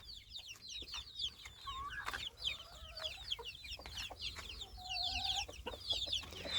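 Young chickens in a henhouse cluck and peep almost continuously, a dense overlapping chorus of short high calls with occasional longer drawn notes, close and fairly loud throughout.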